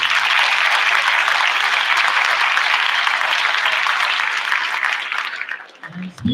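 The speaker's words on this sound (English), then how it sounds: "So one more round of applause for all of us." An audience at a school board meeting held in a middle school claps in a full, steady round of applause that holds for about five seconds before thinning out and tapering off near the end.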